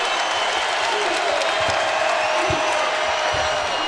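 A basketball arena crowd in Louisville at a Virginia Tech game cheers and applauds steadily, a dense wash of clapping and shouts that holds at a loud level throughout with no break.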